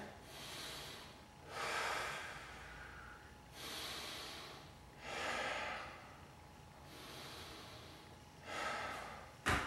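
Slow, deliberate breaths during a stretching exercise, about four airy inhales and exhales in an even rhythm, close to the mic and soft, with a sharper sniff at the very end.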